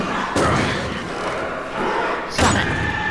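Two heavy thuds land over a noisy background in the video game Until Dawn, the second a loud slam of a door banging shut.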